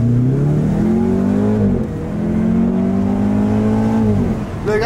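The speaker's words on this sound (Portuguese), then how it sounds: "Coloca na primeira, acelera tudo pra você ver." A turbocharged car engine revs hard in first gear, a loud close droning roar that rises in pitch, dips briefly, then climbs again while accelerating, with faint voices underneath.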